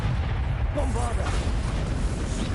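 Bombarda spell explosions in the video game Hogwarts Legacy, a dense, continuous rumbling boom with low-end roar throughout, mixed with shouted spell voices over the blasts.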